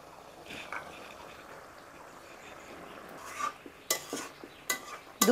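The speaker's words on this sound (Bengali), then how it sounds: "এবার ওপর থেকে গরম মশলা বাটা, ঘি আর দুটো চেরা কাঁচা লঙ্কা দিয়ে নামিয়ে নেব।" Garam masala paste, ghee and slit green chillies stirred into a simmering curry of young pointed gourd in coconut milk, with quiet bubbling then several close scraping stirs and utensil clinks toward the end, no talk.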